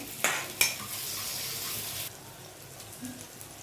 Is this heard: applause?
no